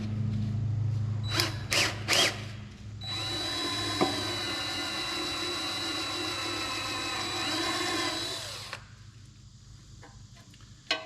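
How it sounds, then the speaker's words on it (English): A few short whirs from a power drill with a 1/8 inch bit, then a long sustained high-pitched run drilling out rivets that stops abruptly, followed by quieter clicks and handling. "I'm using an 1/8 inch drill bit."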